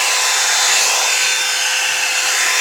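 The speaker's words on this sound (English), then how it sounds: "It's an actual hair dryer." A hair dryer brush blows with a constant, loud, airy whir throughout, close by and steady, with no one speaking.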